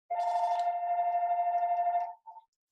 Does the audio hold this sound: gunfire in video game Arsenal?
no